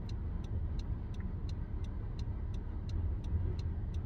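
A car drives along a road, its engine and tyre noise forming a steady, loud low rumble throughout, with faint regular ticking, like an indicator, repeating above it.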